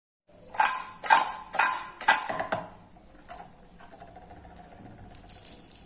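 Crispy onion bhaji fritters being bitten: four or five loud, sharp crunches in a quick series, then softer, fainter chewing crunches that fade toward the end.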